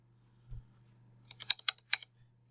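Keystrokes on a computer keyboard while entering figures into project management software: a short burst of about six crisp clicks after a near-silent start, close and fairly quiet, no voices.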